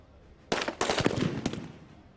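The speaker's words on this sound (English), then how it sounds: "His first shot is the signal that the assault team can go" Sniper rifle shots at a SWAT challenge assault exercise in Colombia, fired from a distant position: a few sharp, loud cracks over about a second and a half, with short echoing tails against an outdoor background.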